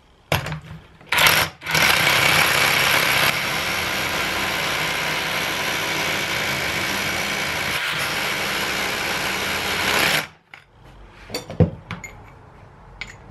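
A Kaltmann Titanium cordless hammer drill bores into hard material with a loud, continuous rattling hammer roar for about eight seconds. It stops abruptly and then gives way to quieter clattering handling noises.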